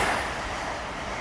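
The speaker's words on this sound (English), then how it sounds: "train is coming from the right and moving towards the left" A passing train, its broad rumble and rolling roar steady throughout this short stretch and moving across the stereo field from right to left.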